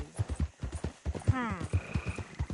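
Horse hooves clip-clop in a steady walking rhythm in the Red Dead Redemption 2 video game, with a brief whinny partway through and someone talking over the hoofbeats.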